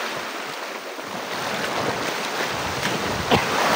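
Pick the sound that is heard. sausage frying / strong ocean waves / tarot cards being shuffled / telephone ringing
strong ocean waves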